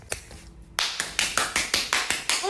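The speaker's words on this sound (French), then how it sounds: "On t'applaudit." A single person claps hands near the microphone in a steady run of about nine sharp, evenly spaced claps, with a brief gap near the start.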